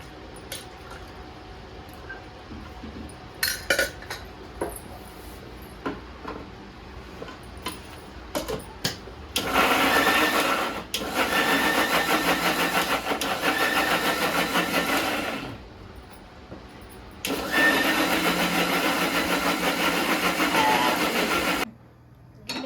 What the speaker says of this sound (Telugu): కొబ్బరి వేసుకొని, టమాటా వేసుకొని మిక్సీ పెట్టుకోవాలి